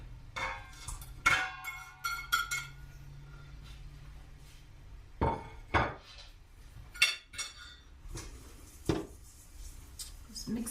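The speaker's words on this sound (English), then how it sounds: "Mix that all up." Utensil clinking and scraping against a bowl while flour and pancake batter are mixed, in irregular bursts of taps and clatter, fairly close, with quiet gaps between.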